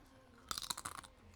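A crunchy snack is bitten and chewed close up, a quick burst of several sharp crackling crunches lasting about half a second amid otherwise quiet surroundings.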